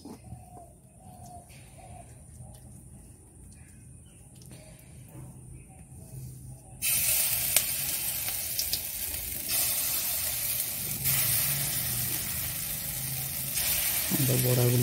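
Egg and pumpkin flower fritters (bora) dropped into a shallow layer of oil, a faint crackle at first that jumps to a loud, steady sizzle partway through and carries on unbroken, with a voice heard faintly at times.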